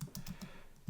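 Quick run of keystrokes on a computer keyboard, about six soft close taps in an uneven rhythm over a second, with no talking.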